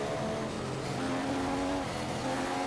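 Simulated F1 car engine from the F1 2015 racing game at Spa, a continuous high whine with steady harmonics that shift pitch as the car holds speed and changes gear, loud and unbroken.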